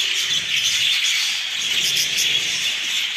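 A dense chorus of Texas Jumbo budgerigars in a breeding aviary, many birds chirping and warbling at once in a steady, loud, continuous chatter with no pauses and no human voices.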